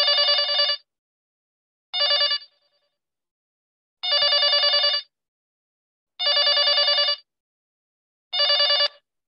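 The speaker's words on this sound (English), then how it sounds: "Beta, from where this ringing thing is coming?" Telephone ringing during an online class, a loud, clear electronic ring sounding in five evenly spaced bursts about two seconds apart, with silence between them and no talk.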